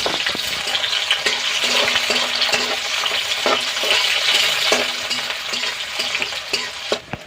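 Onion and green chillies fry in hot oil in a kadai for a village-style broiler chicken dish, a loud continuous sizzle broken by repeated spatula clinks and scrapes against the pan, with no one speaking.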